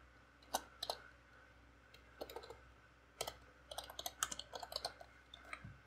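Code being typed on a computer keyboard, with bursts of close, crisp key clicks in irregular runs and brief pauses over a quiet room hum, and no talk.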